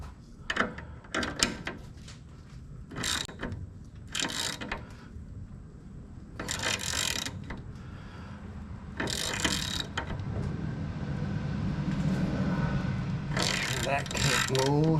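A ratchet tightens a bolt down during tie rod work on a vehicle, with repeated quick bursts of clicking separated by pauses, close and fairly loud over a low background rumble.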